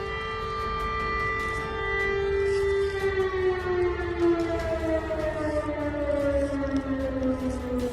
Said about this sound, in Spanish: Tristemente están sonando sirenas de conflicto.